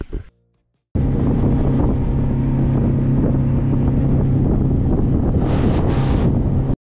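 A fishing boat's motor runs on the open water off Baja California, a loud steady drone heavily buffeted by wind, starting abruptly after a brief silence and cutting off near the end.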